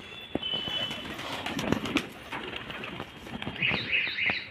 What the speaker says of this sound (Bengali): আর পায়রাগুলো দেখো